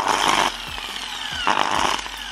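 A faulty angle grinder runs roughly in a workshop during bodywork on a Honda Civic, its loud harsh whine surging and sagging unevenly in two pulses, close and without talk.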